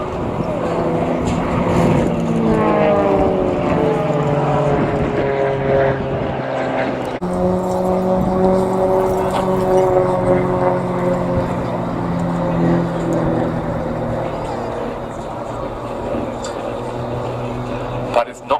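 Propeller aircraft of an aerobatic display team fly past at an air show, a loud sustained droning engine tone that shifts in pitch as they pass, with a commentator talking over it throughout.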